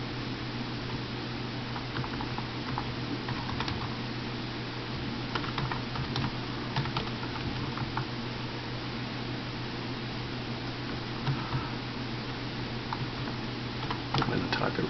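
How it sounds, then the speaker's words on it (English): Computer keyboard typing as a short test program is entered, steady soft key clicks with a few louder taps over a faint background hiss, no talking. "I'm going to type it right."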